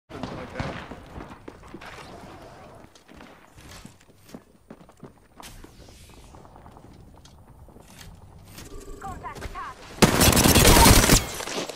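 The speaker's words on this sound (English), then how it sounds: "Shots fired and they're hitting me." Apex Legends gunfire crackles in rapid, scattered bursts of shots and impacts under a player's voice, building to a loud, dense spray of fire near the end.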